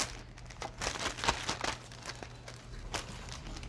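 Plastic bag being handled in a kitchen while preparing wings for roasting, a run of crinkling, rustling bursts at close range with uneven rhythm and no talking.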